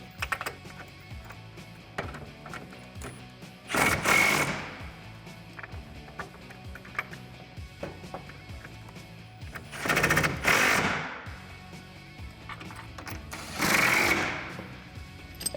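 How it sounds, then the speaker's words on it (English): A ratchet with a 15mm socket tightens the clamp bolt of a Retrax tonneau cover on a RAM 1500 bed rail, with three close bursts of rapid clicking separated by quieter pauses. "We're gonna clamp this down in between those 2 alignment pins and tighten the bolt with a 15mm socket."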